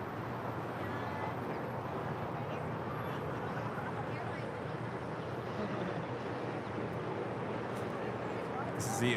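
A Lufthansa Airbus A340-300 in Star Alliance livery, arriving at LAX from Frankfurt, makes a steady broad roar of jet noise at moderate distance, with no distinct peaks, and people speak faintly underneath.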